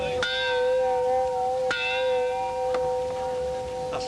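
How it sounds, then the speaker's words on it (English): At a reenactment of a historic town fire, a bell is struck repeatedly with several clear, ringing clangs whose tones sustain and overlap between strikes. "Ring the bell again, Horace, come on."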